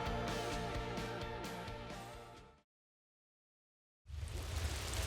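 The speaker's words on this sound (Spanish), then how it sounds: "La lluvia no se detiene." Rain falls as a dense, steady hiss that cuts out to complete silence for over a second, then returns loud and close.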